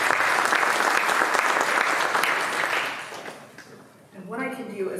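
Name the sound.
audience applause for presenters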